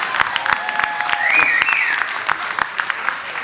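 A stand-up comedy club audience breaks into a burst of scattered hand clapping, steady for a few seconds, while a voice sounds briefly over it.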